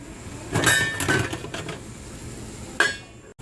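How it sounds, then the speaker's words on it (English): A metal lid goes onto a pan of empanada filling with a few sharp, close clinks and rattles, then a final clank after a short pause. "now I'm going to get a lid and I am going to cover it"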